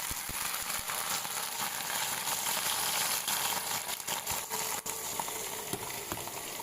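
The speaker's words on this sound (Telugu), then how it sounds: "సో ఆ సౌండ్ వింటూనే మనకి ఎక్కడున్నా సరే పోపు స్మెల్ వచ్చేస్తుంది కదా" Spices tempering in hot oil for popu give a steady, close sizzle with dense crackling that holds for several seconds, broken by a few sharper pops near the end.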